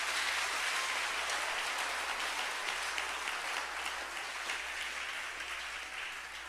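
Congregation applauding steadily during a French-language church sermon, a dense sustained wash of clapping that stays loud throughout and fades slightly toward the end.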